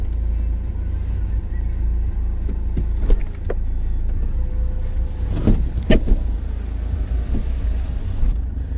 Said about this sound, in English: and the roof will operate. There we go, nice and smooth.